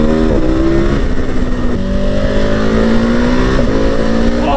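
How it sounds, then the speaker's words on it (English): A 2021 KTM Super Adventure motorcycle engine revs and accelerates loudly up close, its exhaust note climbing through several gear changes, with no talk over it. "Oh, that pop from the exhaust!"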